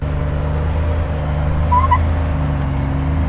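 A Jeep rolls along the Hell's Revenge slick rock trail in Moab, its engine a steady low drone and rumble throughout, with a brief faint squeal or creak partway through and no talk.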